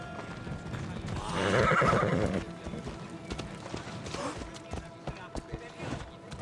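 A horse in the video game Assassin's Creed Odyssey lets out a loud whinny, then its hooves clop in a steady galloping rhythm, with someone talking over it.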